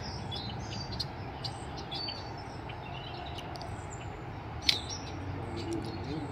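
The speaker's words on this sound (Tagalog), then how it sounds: "Ang daming ibon." Many birds chirp and call in a park on a cloudy day, scattered bright tweets over a low background murmur, with one sharper call standing out near the end.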